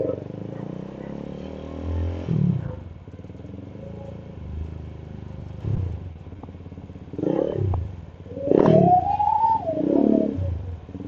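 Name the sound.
Suzuki Gixxer motorcycle exhaust sound while riding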